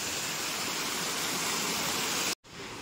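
A waterfall at Rock Garden in Darjeeling roars as a dense, steady rush of falling water, close and loud throughout before cutting off abruptly near the end.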